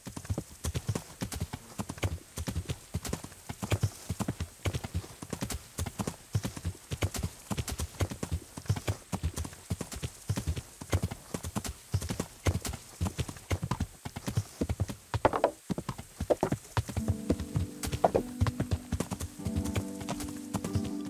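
Horse hooves clip-clop in a steady gallop rhythm in Kingdom Come: Deliverance, close and continuous, with a brief whinny and some tonal game music rising near the end.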